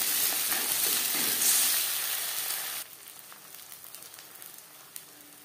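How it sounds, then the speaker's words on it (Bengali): Egg and onion sizzle loudly in a hot pan while being stirred; after a few seconds the frying drops to a quieter crackle with small scraping sounds. "পেঁয়াজের সাথে ডিম বেশ ভালো করে মিক্স করে দেব।"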